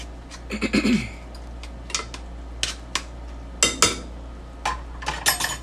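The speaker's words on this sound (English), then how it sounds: "So we're going to stir them." Lima beans being stirred in a pot, with a spoon scraping and clinking against the metal in a handful of separate bursts, fairly close and moderately loud, over a steady low hum.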